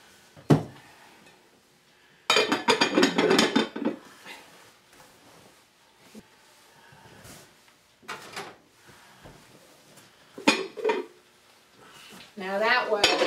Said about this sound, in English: now I'm going to put my sprayed lids on